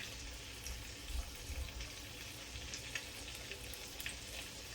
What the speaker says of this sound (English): The skin is supposed to start crackling.